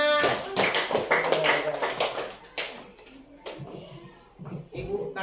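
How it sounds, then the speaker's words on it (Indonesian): Children clap their hands in a classroom, a burst of quick, uneven claps that is loud at first and then thins to scattered taps, with a few voices heard speaking in between. "tepuk tangannya"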